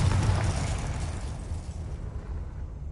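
A Confringo spell blast in the Hogwarts video game: a loud burst at the start with a low rumbling boom that gradually fades over a few seconds, with no one speaking.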